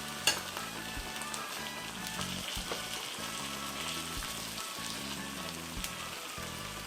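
A piece of salmon pan-fries in a hot pan with a constant crackling sizzle and occasional spatters, close up and steady, with no voices over it.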